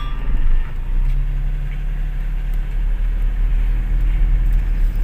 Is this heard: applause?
no